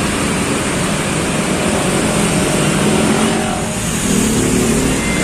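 Bus BM112 pulls away from the Jembatan Gantung ticket agent, a steady loud diesel engine rumble with a rising drone, close by and continuous with no talk.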